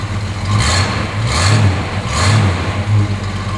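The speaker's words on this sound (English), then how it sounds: "I hit the key and it fired right up." A stone-cold 1972 Ford Mustang engine, fired up on the key, settles into a loud, close idle with a rhythmic lope and three periodic swells of revving, with no voices present.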